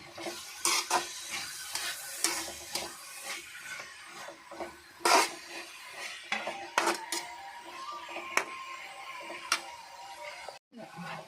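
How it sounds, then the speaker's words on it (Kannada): Onion and vegetables such as carrot, beans, cabbage and capsicum are stir-fried for veg fried rice, with a soft sizzle beneath repeated scraping, tapping and clinking of a spatula against the pan, close and irregular, with no talking. "ಈರುಳ್ಳಿ ಎಲ್ಲ ಹಾಕೊಂಡು ಮಿಶ್ರ ಎಲ್ಲ ಹಾಕೊಂಡು ಫ್ರೈ ಮಾಡ್ತಾ ಇದ್ದೀನಿ"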